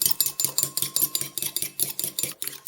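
A fork briskly beating a single egg in a bowl for glazing croissant dough, quick steady clinking strokes in an even rhythm, close and clear with no talking.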